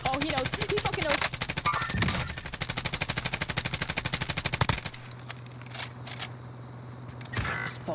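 A PKM machine gun fires in Call of Duty Warzone, a long rapid burst of evenly spaced shots for about five seconds, loud and close, followed by quieter ambient game sounds and a couple of short impacts.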